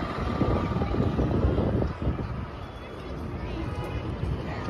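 On a foggy day, wind buffets the open flight deck of the Intrepid Air and Space Museum. It comes through as a steady, broadband rumble against the microphone, louder at first and then easing slightly.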